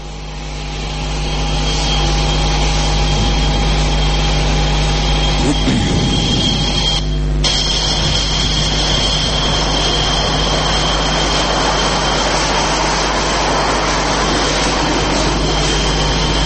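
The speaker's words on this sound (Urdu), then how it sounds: "اس میں کوئی میوزک نہیں ہے، جہاز کی آواز ہے" A Pakistani-made jet aircraft's engine roars steadily and loudly throughout, with a brief burst of rushing noise midway through.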